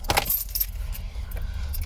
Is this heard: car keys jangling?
yes